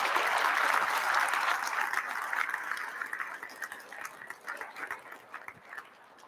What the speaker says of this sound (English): let's give another round of applause for all our inductees